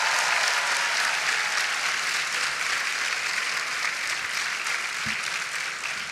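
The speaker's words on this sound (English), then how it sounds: "Give them a round of applause." Steady applause from a large audience at a homecoming celebration for a NASA astronaut at a university, a thick continuous patter of many hands that holds level and eases slightly at the end.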